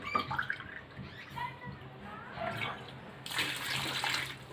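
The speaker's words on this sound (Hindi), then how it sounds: "इसके अंदर मैं पानी ऐड करने लगी हूँ।" Water pours into a cooking pot holding beef, whole tomatoes and spices, a close splashing gush that swells louder toward the end, with faint background sounds beneath.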